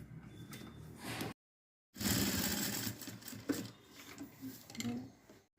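A sewing machine stitches the neckline of a patchwork blouse with piping, its close mechanical whirring running in steady bursts broken by a brief silent pause, with a faint voice in the background.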